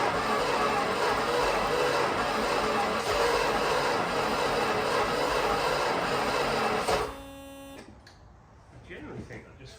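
A Jensen Interceptor V8, a long-stored barn find, cranks over loudly and steadily by a starter for about seven seconds, then cuts off and leaves near silence with faint movement.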